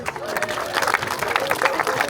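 Outdoor audience at a bird of prey show clapping for a red-tailed hawk named Ginger after a catch, dense applause mixed with crowd noise and some murmuring voices.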